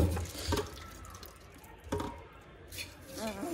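Water poured over a layer of biryani rice in a pan, giving faint, intermittent wet splashes and drips, with a short voice near the end.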